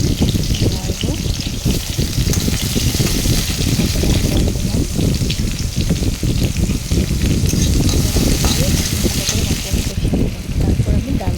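Tomato and chopped garlic fry and get stirred in hot oil, a loud, dense sizzle running steadily throughout with stirring scrapes mixed in, close to the pan.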